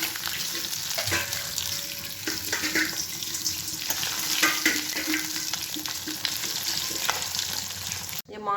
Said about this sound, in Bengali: এই যে আমার মাছগুলো ভাজা হয়ে গেছে